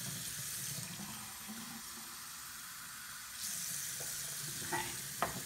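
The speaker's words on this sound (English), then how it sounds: "So I did a cup of warm water." Warm water runs from a faucet into a cup for rinsing Invisalign aligners, a steady hissing stream that stays close and fairly quiet, brightening midway as the flow changes, with a couple of small clinks near the end.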